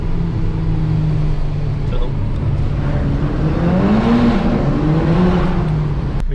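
A Volkswagen Golf GTI Edition 30 with power upgrades drones loudly from inside the car, its engine note rising and falling under a steady road roar while people talk.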